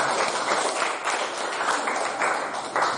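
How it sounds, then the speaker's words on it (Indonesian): A classroom claps for a group of students, giving a steady, dense patter of many hands at close range that keeps going for a few seconds without any speech. "Tepuk tangan untuk kelompok."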